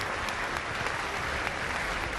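Sustained loud applause fills the chamber of the US Congress, a dense continuous clatter of many hands clapping with no talk over it.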